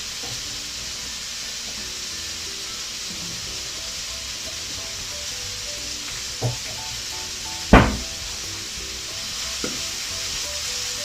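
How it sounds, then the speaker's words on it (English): Red onions and salt frying in a pan, a steady sizzle with a couple of sharp clinks of a utensil against the pan, close and fairly loud. "Then you can, at this time, you can put your red onions together."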